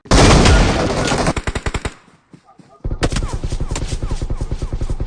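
Rapid strings of loud firecracker bangs crackle close by, pause briefly, then a fresh burst of dense popping continues steadily.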